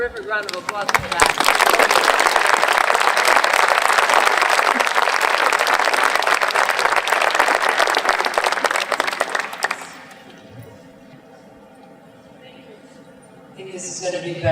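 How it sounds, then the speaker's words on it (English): Audience applause at a memorial ceremony, loud and dense for about ten seconds, then dropping away to quiet room noise before a voice begins. "Let's give another terrific round of applause for that."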